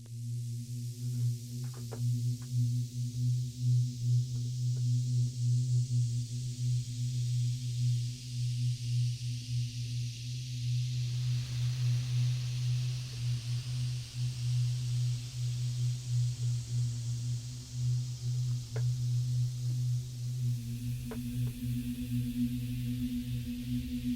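Synthesizer patches auditioned in the Serum soft synth, a steady sustained pad with strong low harmonic tones held throughout, bright airy upper texture and a few brief clicks, with the tone shifting slightly near the end.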